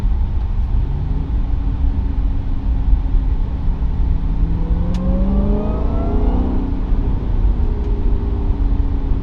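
A Dodge Hellcat's engine drones steadily from inside the cabin, with a rising rev sweep as the car accelerates mid-way, loud and continuous with no talking.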